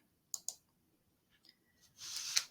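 Two quick, sharp computer mouse clicks close to the microphone, followed by a few fainter clicks and a brief rustling scroll-like noise.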